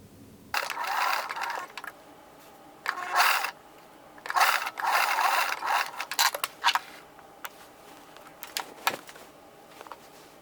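A sewing machine runs a slight zigzag stitch along a T-shirt seam in several separate bursts of rapid mechanical whirring, each a second or so long, with short pauses and small clicks between them.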